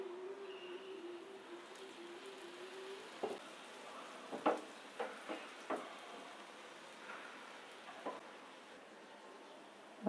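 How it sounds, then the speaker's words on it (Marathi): Oil added around the edges of a flipped ragi (nachni) dosa sizzles softly in a hot pan, a steady faint fizz broken by small crackling pops. "आता कडेकडेने थोडं तेल सोडूया"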